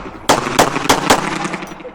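Rapid Glock 17 pistol shots at a USPSA Carry Optics match, five sharp loud cracks in quick succession with range echo between them.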